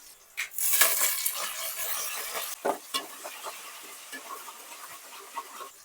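A spoon stirs Telugu raw fish curry, pachi chepala pulusu, in a pot, giving soft wet scraping and sloshing with a light sizzle, close and fairly quiet, alone without talk.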